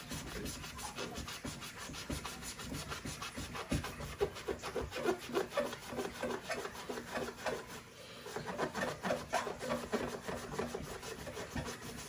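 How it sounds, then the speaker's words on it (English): A wet magic eraser rubs scuffs off a leather Air Jordan 5 sneaker in quick, steady back-and-forth scrubbing strokes, close and moderately quiet, with a brief pause partway through. "Mr. Clean magic eraser does everything without harming the material"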